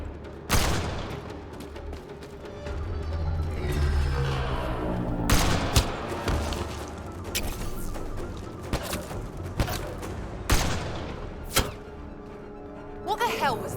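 Video game gunfire in a sci-fi shooter firefight against a sniper: sharp, loud shots and bursts scattered irregularly across the scene, layered over a rumbling background, with voices shouting between volleys.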